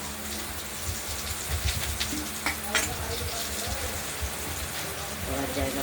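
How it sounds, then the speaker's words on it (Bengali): Slices of ash gourd fry in a pan, giving a steady low sizzle and crackle with a few sharper spits, heard close and continuous throughout. "এই চাল কুমড়োগুলো আমরা ভেজে নিচ্ছি প্রায় হয়ে এসেছে"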